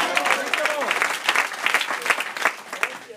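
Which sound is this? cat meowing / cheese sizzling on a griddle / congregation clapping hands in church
congregation clapping hands in church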